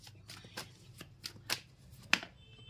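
Tarot cards being shuffled by hand, a series of short crisp riffling bursts at irregular intervals, close and fairly quiet, with no talking.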